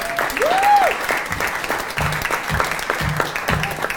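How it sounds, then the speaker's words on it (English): Applause from an audience at a candidate forum in a cultural center, steady dense clapping that holds across the clip with a brief tonal squeal early on and faint low thuds beneath. "Give yourselves a round of applause for being here."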